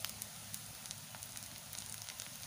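Onions and slit green chilies fry in a pan for Bengali egg fried rice made with leftover rice, giving a faint, steady crackling sizzle with scattered small pops and no talking.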